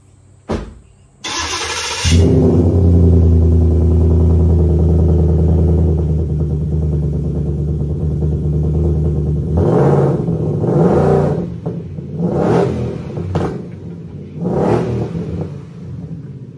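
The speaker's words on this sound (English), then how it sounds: "He's actually going to fire it up now." A V8 engine cranks and fires up, then settles into a loud, steady idle before being revved several times in sharp rising bursts.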